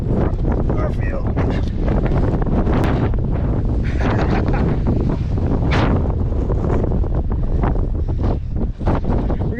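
Strong wind gusts roar and buffet the microphone on the exposed summit of Mount Garfield during a Pemi Loop mountain run, loud and constant, with a voice briefly audible amid the gusts.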